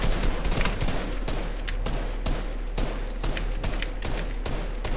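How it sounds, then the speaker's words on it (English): Assault rifle fire in Fortnite, a steady run of rapid, evenly spaced shots filling the whole stretch, loud and close with a constant low rumble beneath. "I'm just trying to waste my AR ammo"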